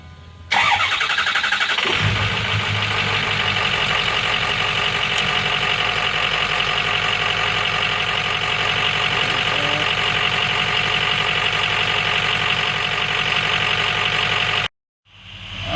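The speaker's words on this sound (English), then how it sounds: "We're going to go ahead and start the truck and leave this valve open." Ford Super Duty pickup engine cranks, catches after about a second and then settles into a steady, loud idle before cutting off abruptly near the end.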